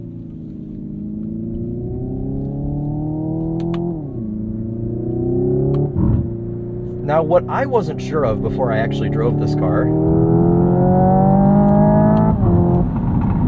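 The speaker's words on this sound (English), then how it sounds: "Not only does it make engine noise, it makes pops and burbles on the down rev" Simulated engine note from a 2025 Hyundai Ioniq 5 N, a 641hp electric car, rising and falling through paddle-shifted gears with crackling pops and burbles on the down rev, steady and close under someone talking.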